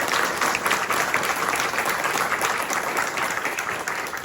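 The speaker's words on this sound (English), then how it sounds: "a round of applause for the fantastic work that they've done" An audience at a lecture in Cardiff breaks into sustained applause, a dense, even wash of many hands clapping at close range for the whole stretch.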